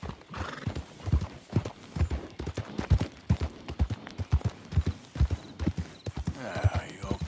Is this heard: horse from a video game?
yes